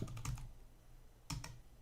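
Keys on a computer keyboard are tapped in two quick, close bursts of a few keystrokes each, separated by a short pause, with no talking.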